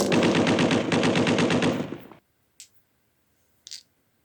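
A Lewis gun on a World War I battlefield fires a loud, rapid automatic burst lasting about two seconds, then cuts off, leaving two faint, brief clicks in the quiet.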